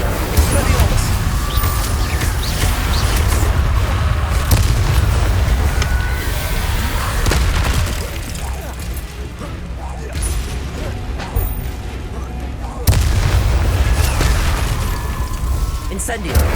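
Repeated spell blasts of Incendio fire and Confringo explosions in Hogwarts Legacy, heavy booming bursts and crackling impacts layered under game sounds, with a voice speaking over the combat throughout.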